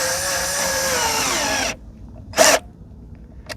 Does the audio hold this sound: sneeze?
no